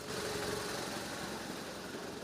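A motorcycle engine runs steadily on a street patrol in a Ukrainian city, a constant, fairly loud mechanical drone with no change in pace and no one speaking.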